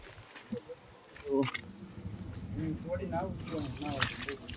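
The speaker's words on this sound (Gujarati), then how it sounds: "પગ પાસે ધોવા પડશે હારા પાણી." Water splashing and sloshing as feet are washed outdoors in the early morning, a few irregular splashes close by under intermittent talking.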